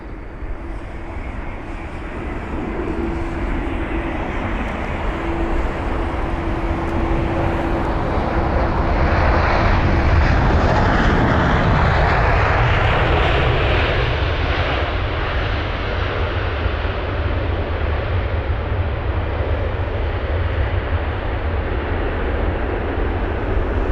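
A China Southern Airlines jet, a four-year-old aircraft on flight CZ673 from Beijing, arrives at London Heathrow with a loud, steady roar of jet engines that swells and shifts in tone midway as it passes close by, with no voices.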